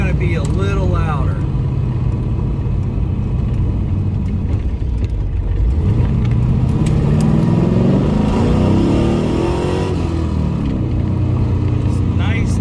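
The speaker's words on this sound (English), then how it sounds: "Motor sounds great still without crazy overpowering exhaust, right?" An LS-swapped car's exhaust with a Varex valve set to mode 2 idles and revs with a deep, loud rumble, swelling in the middle of the clip before settling. Someone talks over it.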